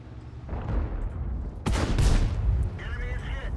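Tank gunfire in the World of Tanks video game: a single loud, heavy cannon blast booms midway and decays over a low rumbling battlefield background.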